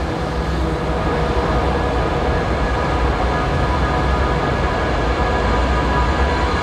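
A painted S-Bahn train running at Leipzig's S-Bahn station on the line to Halle (Saale) Hauptbahnhof, giving a steady, fairly loud rolling rumble with rail hiss throughout and no speech.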